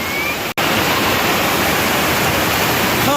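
Heavy rain pours down steadily in a dense, loud, continuous roar, like standing under a waterfall, with only a brief momentary dropout near the start.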